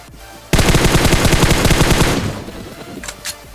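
Loud rapid automatic gunfire erupts in a PUBG match, a dense burst of shots lasting about a second and a half that then tails off, followed by a couple of fainter distant shots.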